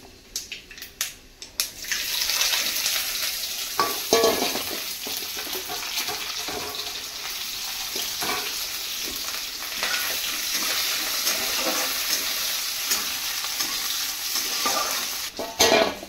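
A tempering of spices splutters in hot oil, crackling and popping loudly and continuously up close, with scattered sharper pops over a steady sizzle.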